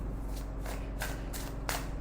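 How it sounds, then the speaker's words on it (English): A deck of tarot cards being shuffled by hand, a steady papery rustle broken by several quick riffling bursts, close and alone without talking. "Let me shuffle again."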